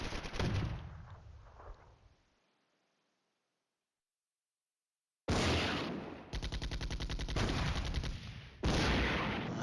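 Gunfire and artillery in the Flashpoint Campaigns: Red Storm wargame, with M1 tanks and wheeled APCs in the battle. Loud rapid bursts and booms fade to silence, then return in a dense, sustained barrage of repeated shots.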